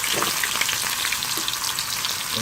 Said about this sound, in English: Okay, my oil is warm enough. I'm gonna add the onions to it